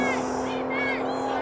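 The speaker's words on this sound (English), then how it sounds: "Close race, but the Raptor is out in front." A Raptor vehicle drag racing on an abandoned airstrip at Zeerust Airfield, its engine droning loudly with rising and falling whines, under a voice talking over the race.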